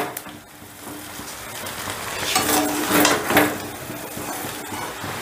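Chicken rice with spices being stirred and mixed in a pan, with scraping and clattering strokes over a light sizzle that build to a louder flurry midway. Nobody talks.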